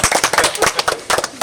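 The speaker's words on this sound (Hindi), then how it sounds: "छोटू के लिए एक बार जोरदार ताली हो जाए।" A crowd at an outdoor ice cream eating challenge claps loudly for a boy, quick uneven bursts of many hands close by, rising and dipping over a brief stretch.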